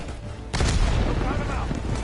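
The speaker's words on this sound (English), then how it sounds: "Tossing grenade" A grenade explodes in the video game Call of Duty Black Ops 6, a sudden loud boom after a short quieter lead-in, its rumbling blast lingering with debris and crackle, and a voice speaking faintly underneath.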